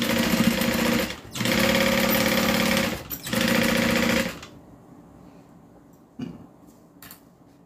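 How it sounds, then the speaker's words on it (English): Top-stitching through two layers of cotton on the inside of a bag, a sewing machine whirs loudly and up close in three runs separated by brief pauses, then stops, leaving faint handling noises. "I'm going to go ahead and do the top stitch for the inside"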